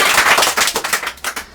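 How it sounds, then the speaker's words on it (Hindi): Studio audience on a children's quiz show clapping, a brief loud burst of applause with distinct claps that thin out and fade within a couple of seconds. "एक बार जोरदार तालियां"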